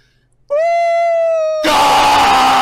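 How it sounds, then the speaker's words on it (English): Loud, sustained scream from a person dying in a Minecraft Hunger Games match, a strained high wail that turns into a harsh, noisy shout. "Jesus, that was quite the scream for me."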